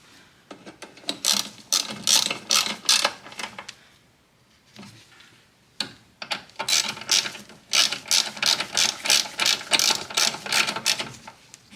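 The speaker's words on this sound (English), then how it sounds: "just snap tight the bolts" Rapid clicking of a ratchet snugging bolts during timing belt work on a 2007 Toyota Highlander Hybrid, heard in two loud, close bursts of fast pawl clicks separated by a short lull.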